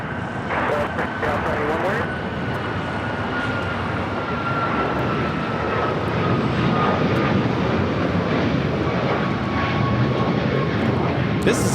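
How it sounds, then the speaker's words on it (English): An Alaska Airlines Boeing 737 MAX 9 takes off from LAX, a loud steady jet roar with a whining engine tone that slowly sweeps downward and swells toward the end, with voices heard over it. "This is Alaska Airlines 1332 taking off to Liberia on a MAX 9."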